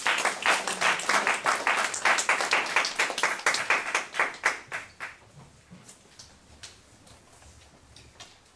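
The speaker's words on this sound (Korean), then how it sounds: "우리 뜨거운 박수로 환영하겠습니다." Audience at a graduate school spiritual retreat claps in a loud, rhythmic unison beat for about five seconds, then the clapping thins into scattered, fading claps before near quiet.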